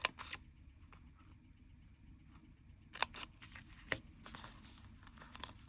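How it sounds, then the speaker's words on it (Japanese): Scissors snip through folded origami paper in a few short, sharp cuts and crisp clicks, separated by quiet rustling and handling of the paper, close and faint with no voice. "この辺に沿ってハサミを入れ、これと同じように平行にあと2箇所ハサミを入れます。"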